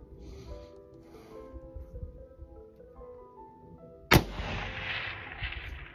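A single loud, sharp rifle shot from a Stag Pursuit 6.5 Creedmoor fired at a 500-yard target rings out near the end, followed by a lingering echo that stays raised after low, murky background sound.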